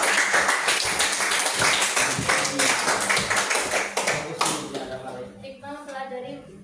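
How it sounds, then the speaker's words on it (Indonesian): A classroom audience claps together for a costume presentation during an Islamic religious education teaching session, with dense, lively applause that thins out near the end as a voice begins talking. "Dan tepuk tangan semua."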